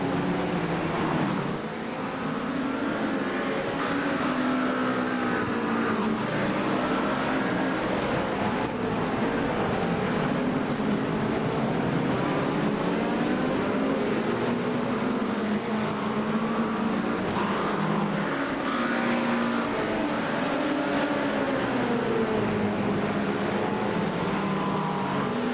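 Race cars at the 24 Hours of Daytona drone steadily with wavering engine pitch as they rise and fall, a continuous loud racing-engine wash with no talking.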